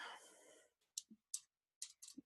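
Computer keyboard typing: after a breathy sigh-like noise, a few sharp separate key clicks and taps come at an uneven pace, close by and fairly quiet, with silence between them.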